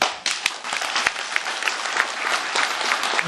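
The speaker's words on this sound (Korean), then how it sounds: "큰 박수" Audience applause at a general meeting held in a traditional Korean house, breaking out right after a speech ends; dense clapping from a modest crowd, close and steady for a few seconds with scattered sharper claps.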